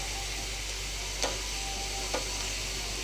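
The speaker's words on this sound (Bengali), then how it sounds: "এখন আমার পেঁয়াজটা বেশ ভাজা ভাজা হয়ে এসছে।" Onions and spices, with cloves, fry in a pan for an egg curry, a soft steady sizzle with two brief stirring scrapes, no talk.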